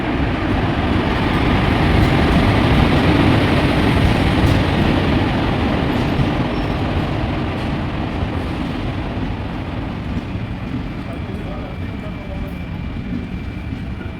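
An express train departing a station rumbles steadily close by, a loud continuous roar of engine and wheels that eases slightly as it pulls away.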